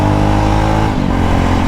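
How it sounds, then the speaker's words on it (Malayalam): A Jawa Perak motorcycle's exhaust drones loud and close while accelerating, a dense, low, steady rumble that dips briefly partway through, then carries on without any voices. "നമ്മളൊരു 80K എബവ് പോവുകയാണെങ്കിൽ എക്സോസ്റ്റ് നോട്ട് ചെറുതായിട്ടൊന്ന് മാറും"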